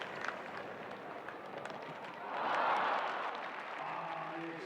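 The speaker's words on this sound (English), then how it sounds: "Crowd almost clapping too early for him" Spectators at an outdoor show jumping grand prix break into a brief swell of clapping that rises and fades, heard from a distance over steady ambient crowd noise.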